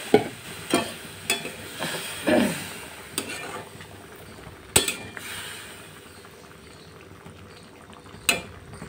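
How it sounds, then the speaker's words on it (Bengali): Paneer being sautéed in a pan, with a low simmering crackle under sharp clacks of a spoon against the pan, several of them spread unevenly through the clip, and no talk. "পনিরটা কষানো হয়ে গেলে সামান্য জল দিয়ে ঢেকে দেব"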